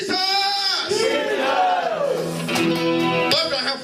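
A church congregation at an evangelist's service in Singapore shouts together in loud, sustained, chant-like cries. The massed voices keep going for the whole stretch and fill the hall.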